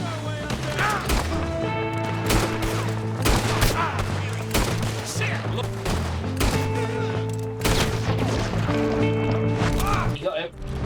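Gunfire in the video game Red Dead Redemption 2 crackles in repeated loud bursts throughout, layered over a steady droning musical score.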